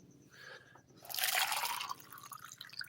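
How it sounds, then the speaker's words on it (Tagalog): Hot water poured into a glass at home, a faint trickle that swells into a brighter, fuller splashing pour midway and then tapers off, heard alone. "Lagyan ng mainit na tubig to guys."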